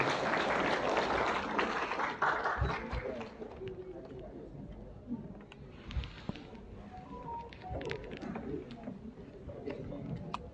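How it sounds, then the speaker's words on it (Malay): Applause for a guest invited on stage at a Ramadan iftar program, a burst of clapping and crowd chatter at first that thins out into scattered claps and murmurs, fairly faint. "Tepukan gemuruh untuk Uncle Mikael."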